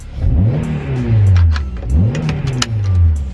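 A Honda CL7 Type R with short-ratio gears, an LSD, a 4.7 final drive and a lightened flywheel revs hard twice. Each blip climbs sharply and drops back, loud and close, with no voices.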